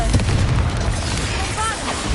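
A booming blast from the Confringo spell in Hogwarts Legacy, a game set at Hogwarts. It gives a loud, dense burst of rumbling noise that lasts about two seconds, with spell effects and voice in the background.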